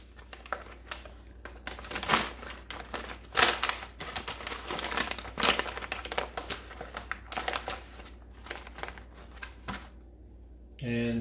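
The bottom of a Minotaur Trading Co Arctic Field Ration pouch is folded out, giving repeated crisp crinkling and rustling bursts of packaging at close range, with a voice speaking at times.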